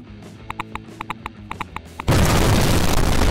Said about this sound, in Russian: Это мега эпичные взрывы.